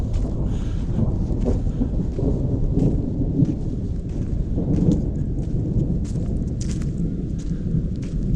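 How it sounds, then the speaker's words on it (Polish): Deep, sustained thunder rolls and rumbles from an approaching storm in the Himalayas, loud and continuous for the whole stretch, with a steady wash of rain and wind noise against the microphone. "Ale grzmot jest konkret."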